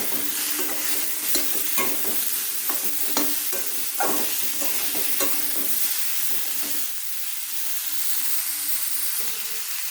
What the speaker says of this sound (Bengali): ভালো করে নাড়াচাড়া করে নেব।